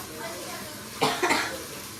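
A woman coughs twice in quick succession, close and fairly loud, a short harsh burst and then a second one over quiet kitchen background noise, a cough brought on after eating pani puri.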